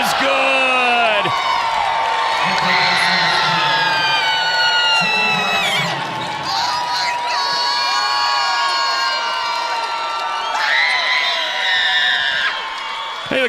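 A high school boys regional basketball crowd in a gym, Tuba City against Ganado, erupts in loud cheering, screams and whoops after a buzzer-beater, with shrill shouting that swells, dips and surges again.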